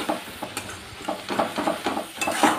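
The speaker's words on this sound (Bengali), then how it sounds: "এবারে এই মশলাটা ভালো করে কষিয়ে নেব।" Spice paste for a mourola fish curry being fried and stirred in a pan, with soft sizzling under repeated scraping and clinking strokes of a spatula against the metal, moderately close.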